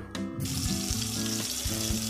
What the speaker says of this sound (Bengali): পনিরগুলো আমার ভাজা হয়ে গেছে, দেখুন একদমই লাল লাল হয়ে আসছে।